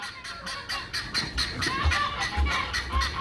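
Male geese fighting honk and squawk in rapid, agitated bursts close by, with scuffling and flapping mixed in as the calls overlap.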